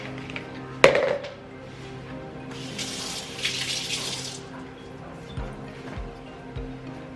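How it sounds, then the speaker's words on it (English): A kitchen tap opens with a clunk and water runs for a few seconds as fingers are rinsed, a near, hissing stream followed by quieter drips and light handling sounds. "Rinse my little fingers off."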